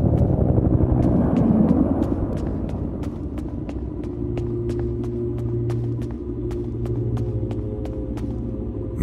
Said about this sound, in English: Is that the evac chopper?